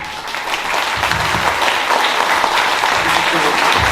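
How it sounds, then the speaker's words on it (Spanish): Loud standing applause for a group being honored at a book fair event, many hands clapping densely and continuously, swelling slightly after the first moment and holding strong to the end. "fuertes aplausos para el grupo de pie"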